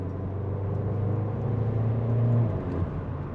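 A Mercedes CLA 45 AMG pulls along a Swiss Alpine road at part throttle, its engine a steady low rumble and whir heard from inside the cabin, rising gently in pitch.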